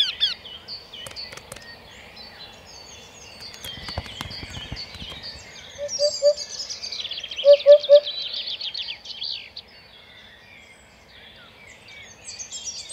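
A wryneck gives its courtship call in April woodland of the Bohemian Karst: a short series of clear, evenly spaced repeated notes, moderately close, set among other birdsong and faint rustling.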